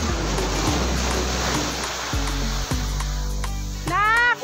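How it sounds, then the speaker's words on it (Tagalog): Sea waves washing onto a beach shore with steady broad surf noise throughout; a voice speaks briefly near the end over the water. "Ang alon."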